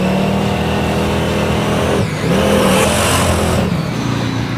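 Draguar drag car braking hard on a race track, a loud continuous engine roar with a dip in pitch as speed drops, then a resurgence, heard up close from inside the car without speech.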